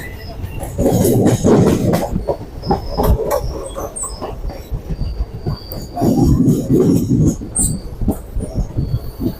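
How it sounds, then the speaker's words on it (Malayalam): A KSR Bengaluru train rolls into Thrissur railway station with rumbling wheels, clattering rail joints and faint squeals, loud and close, swelling twice as carriages pass. "K S R Bangalore train ഇപ്പോൾ തൃശ്ശൂർ റെയിൽവേ സ്റ്റേഷനകത്തോട്ട് കയറുന്നു"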